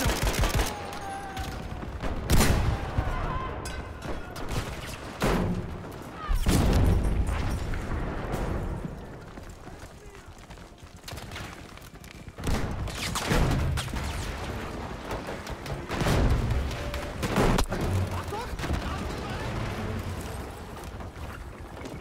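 Battlefield V battle on the Arras map with scattered gunfire and heavy air strike explosions, loud booming bursts separated by quieter stretches of distant shooting and rumble, over about twenty seconds.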